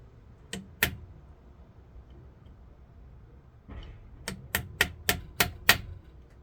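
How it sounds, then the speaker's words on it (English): A small screwdriver taps a roll pin in a 70-year-old Elna sewing machine: two sharp metallic taps, a pause, then a quick run of six close, crisp taps. "you're going to tap that roll pin, and I'm going to use this little screwdriver I used to get it out"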